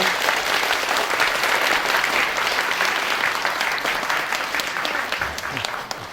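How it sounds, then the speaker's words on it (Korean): Enthusiastic applause from an audience after a university lecture, dense clapping that stays strong and slowly tapers toward the end. "다시 한번 큰 박수 부탁드립니다"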